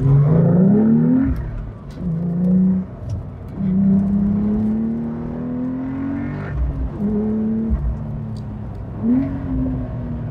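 A 2026 Porsche 911 Carrera T with a manual gearbox revs repeatedly on downshifts, the engine note rising and dropping in several loud, close blips over a constant motor drone.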